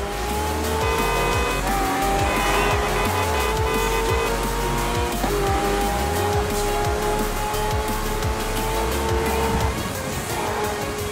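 Race cars roar past in Forza Horizon 4 with tires squealing and skidding, a dense, loud, continuous blend of engines shifting pitch and rubber scrubbing, with no talk over it.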